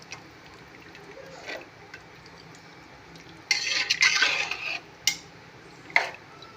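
Metal utensils scrape and clink inside a pot as vegetable biryani is stirred, with a louder scraping stretch midway and a couple of sharp knocks after.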